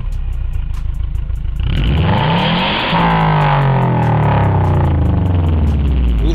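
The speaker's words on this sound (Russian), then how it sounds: "Этот глушитель предназначен для мотоциклов, но, думаю, при желании можно также примастерить и на автомобиле." A loud, close engine revs hard through a thick-walled steel motorcycle exhaust muffler, its pitch climbing in steady sweeps over a constant roar, with no voices.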